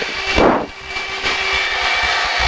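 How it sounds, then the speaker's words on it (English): Blue Angels jet engines run up for takeoff from inside the cockpit, a loud continuous roar with a brief swelling surge near the start, then a steady engine drone. "Let's get the engines running up"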